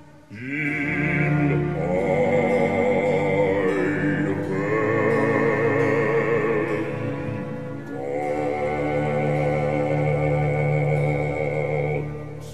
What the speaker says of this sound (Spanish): el hombre que puede cantar más grave se llama el bajo